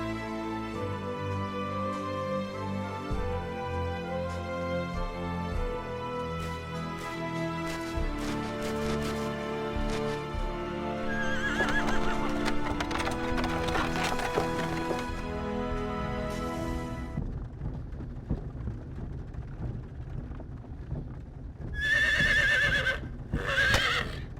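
Horses whinny and hooves clip-clop as a horse-drawn wagon sets off in the video game Star Ocean: Till the End of Time, over sustained orchestral music, with a louder neigh near the end.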